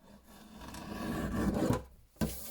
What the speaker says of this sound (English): I'll just trim off the rough edges of this one